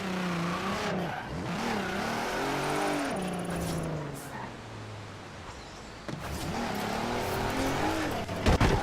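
A Jaguar revs hard in the Forza Horizon 4 racing game, its engine pitch rising and falling through gear changes, briefly easing off mid-drive before accelerating loudly again, with tire noise near the end.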